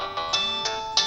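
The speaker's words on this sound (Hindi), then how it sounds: "ये किसका फोन आ गया?" A phone ringtone chirps out in a repeating electronic pattern of bright tonal bursts, close and clear, with no talking over it.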